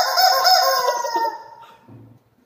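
A single loud, close rooster crow rings out for about a second, then fades into faint background noise.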